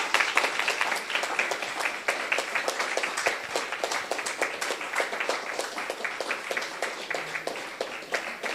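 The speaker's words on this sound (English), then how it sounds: "Please give a huge round of applause." Audience at a business forum chapter meeting gives a round of applause, many hands clapping in a steady, slightly uneven rhythm throughout, fairly close and without talk.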